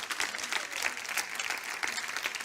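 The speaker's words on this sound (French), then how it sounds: "Fais monter une acclamation ce matin" Church congregation on New Year's Eve breaking into applause and acclaim, a thick, continuous crowd clapping heard from a distance in a large room, steady and moderately loud throughout.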